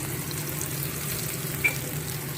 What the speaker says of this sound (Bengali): একটু কাঁচা লঙ্কা দিয়ে দিলাম, একটু নেড়ে নিতে হবে